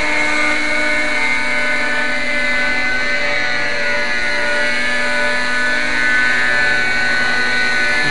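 A Raptor 30 nitro RC helicopter flying a low crop-dusting pass, its loud steady high-pitched engine whine and rotor buzz continuous and close throughout, with no voices.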